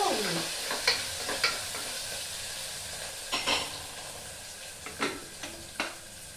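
Green chillies frying in a pan for a bottle gourd and prawn curry, a soft steady sizzle with occasional sharper stirring scrapes and crackles, close and fairly quiet.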